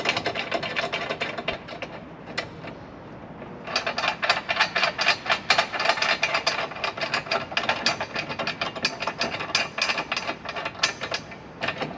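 A hand ratchet tightens crossbar bolts on a Ford Bronco, giving a close, crisp run of rapid clicking bursts in uneven back-and-forth strokes after a brief pause, with no talking.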